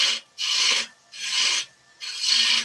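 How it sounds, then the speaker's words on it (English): Four rhythmic, rasping strokes of sandpaper rubbed by hand across a wooden piece being shaped on a lathe, each pass separated by a brief pause, close and clear with no talk. "with some sandpaper"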